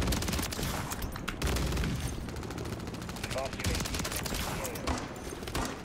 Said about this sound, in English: I can hear them shooting a G11